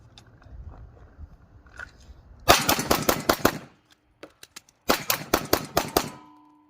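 Rapid pistol shooting at a range: two close, loud strings of about six to eight sharp cracks each, separated by a short pause, with faint background noise before the first string.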